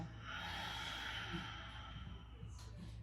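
A person takes a deep breath in and lets it out slowly during a post-run yoga session, a soft close airy rush that swells and fades, faint and without talk.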